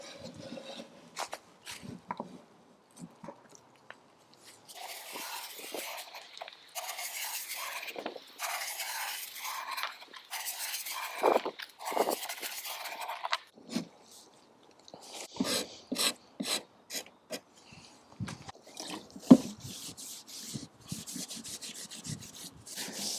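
A putty knife scrapes softened paint off a wooden veneered piece of furniture after stripper has been applied. Short rasping strokes come in uneven bursts with pauses between them, close and fairly quiet.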